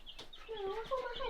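Meat chickens in a brooder hut cluck and chirp in a close, busy chorus of short, pitched calls that runs without a break, with no voices over it.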